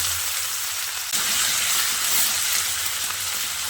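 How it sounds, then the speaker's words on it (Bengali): Steady, loud sizzling of potatoes frying in hot oil, a continuous crackling hiss that swells slightly after the first second. "একইভাবে বাকি আলুগুলোকে ভেজে নিচ্ছি।"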